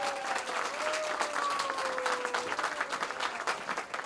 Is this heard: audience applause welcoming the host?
yes